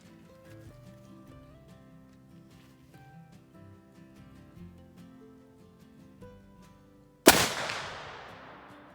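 A single loud shot from an Armsport Kentuckian black powder rifle loaded with 95 grains of powder, cracking sharply near the end with a long decaying tail after quiet background sounds.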